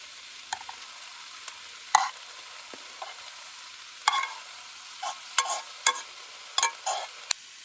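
Spinach and lentils cook in a pan on a stove, giving a soft, quiet sizzle broken by a scatter of sharp scraping stirs and clicks at uneven intervals.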